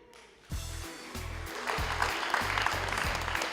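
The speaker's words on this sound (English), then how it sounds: "Round of applause for the final speaker of Vuna Bosco, Stuart Coltes." A debate audience in Kokopo applauds the final speaker, with clapping swelling from quiet to a fuller crowd wash while deep, regular thumping beats pulse underneath.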